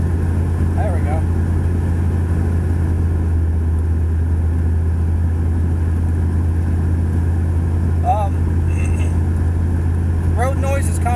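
A 2001 Dodge Ram 2500 on new tires drives along with a constant low exhaust drone and road rumble filling the cab. Occasional faint chirps sound in the background.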